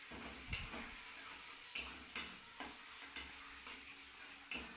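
Sliced onions frying lightly in a pan for a cauliflower curry, a soft steady sizzle broken by a series of sharp spatula taps and scrapes, close and with no voices.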